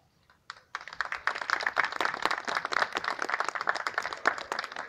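A small audience at an art gallery exhibition applauds after a song, starting with a few isolated claps and then breaking into brisk, fairly close clapping that carries on steadily.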